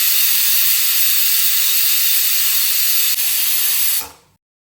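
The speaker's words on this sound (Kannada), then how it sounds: "ಮುಚ್ಚಳ ಮುಚ್ಚಿ 2 ವಿಷಲ್ ಕೂಗು ಬರುವವರೆಗೂ ಮೀಡಿಯಂ ಫ್ಲೇಮಿನಲ್ಲೇ ಬೇಯಿಸಿಟ್ಟುಕೊಳ್ಳಿ." A pressure cooker on medium flame cooking ghee rice lets off one long, loud, steady steam whistle that holds for about four seconds and then cuts off abruptly, leaving silence.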